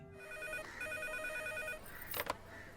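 A telephone rings in two bursts of bright, buzzy tones separated by a short gap, moderately loud over a quiet room hiss, followed by a couple of brief clatters.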